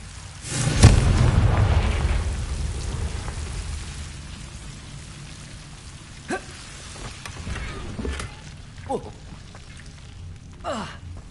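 Confringo blasting spell cast in Hogwarts Legacy goes off as a loud, booming burst near the start and then rumbles away, followed by several brief, fainter crackling hits over a low background bed.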